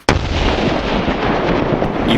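A loud, close blast erupts after a split second of quiet, followed by a sustained rumbling roar that fills the rest of the clip.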